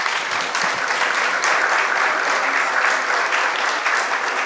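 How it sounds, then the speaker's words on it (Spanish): An audience at a talk by photographer Paz Errázuriz breaks into sustained applause, a dense, steady clatter of many hands that holds at an even level throughout with no talk over it. "Un aplauso."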